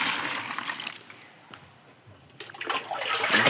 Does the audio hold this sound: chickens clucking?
no